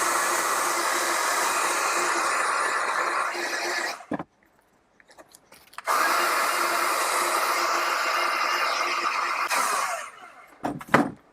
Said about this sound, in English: I'll use my heat gun